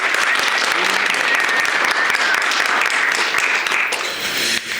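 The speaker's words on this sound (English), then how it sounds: "So give yourself a round of applause for being here." Applause from the audience at a public speaking class graduation ceremony, a full and steady clapping wash that stays strong before easing slightly near the end, with light voices faintly beneath.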